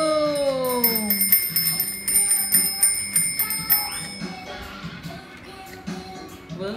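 A small bell on a child's bicycle rings repeatedly in quick bright dings over several seconds, close by, with light background noise and no talking.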